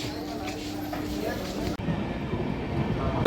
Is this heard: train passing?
yes